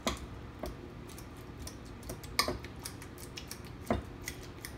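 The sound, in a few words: mashing ripe avocados with a fork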